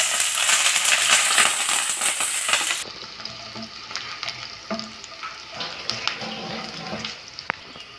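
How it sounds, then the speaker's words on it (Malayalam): Green chilies, curry leaves and long-cut garlic fry in hot oil, a loud sizzle at first that drops to a softer crackle with stirring and light clinks of a utensil. "ഇതെല്ലാം കൂടി ഇട്ട് നമുക്ക് മുരിച്ചെടുക്കാം."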